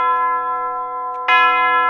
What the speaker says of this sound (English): The bell invites me.